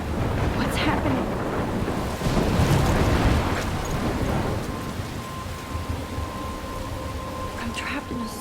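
Heavy rain and a rolling thunderstorm in Life is Strange Remastered roar steadily throughout, with a loud rumbling peak of thunder early on and a dense wash of rainfall continuing after.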